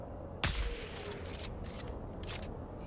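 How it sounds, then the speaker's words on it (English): A single sharp sniper rifle shot in Dune: Awakening, a loud close crack with a short decaying tail, followed by quieter game ambience. "Oh, it survived the sniper shot."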